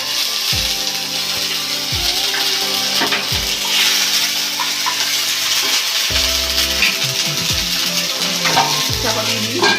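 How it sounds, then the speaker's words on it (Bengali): Cumin seeds fry in a hot pan with a loud, steady sizzle that fills the whole stretch, broken by repeated scraping and stirring strokes of a spatula against the pan. "জিরেটা ভাজা হয়ে গেছে। জিরে থেকে স্মেল বেরোলেই বুঝবেন জিরেটা ভাজা হয়ে গেছে।"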